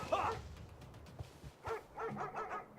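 Dogs bark and yip in the video game Civilization VI, a sharp bark up front followed by scattered softer barks and whimpers over low game background.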